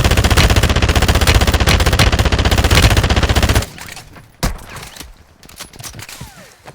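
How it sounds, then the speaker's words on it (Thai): A new AR assault rifle in Call of Duty Warzone 2.0 fires in a rapid continuous automatic stream for several seconds, loud and close, then cuts off to quieter scattered shots and ambient game noise. "ปืนปืนมันคุมยากนะเพื่อนๆมันลั่นไวนะครับ"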